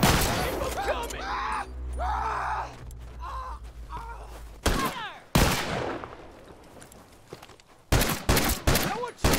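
Rifle fire and bursts of gunshots ring out during a close-range shootout in The Last of Us, with sharp reports breaking through shouting voices and a groan.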